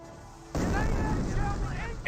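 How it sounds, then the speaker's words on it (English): Incendiary mortar fire in Company of Heroes, a heavy burst that turns into a sustained roar of explosions and burning, with chatter faintly underneath. "That's probably incendiary mortar."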